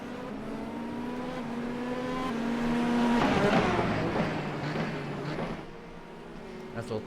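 IndyCar race cars at a Grand Prix roar past during a late-race pit stop phase, one engine note swelling loud and fading as it passes, with steady background engine drone throughout.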